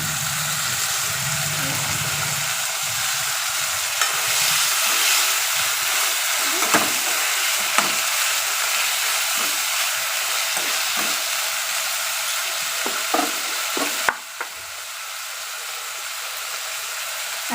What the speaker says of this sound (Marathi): कोबी पण टाकून घेऊ